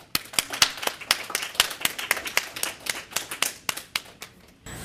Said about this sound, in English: Please join me in giving Athena another round of applause.